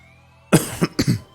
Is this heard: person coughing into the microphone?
yes